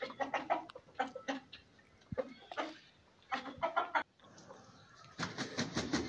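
A rooster clucks nearby in a hen setup, a series of rapid clucking bursts with short pauses, then a noisier stretch at the end.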